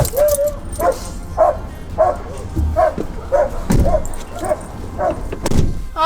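A female dog picked up from school yips and whimpers close by in quick, regular bursts, with soft thumps and movement around her.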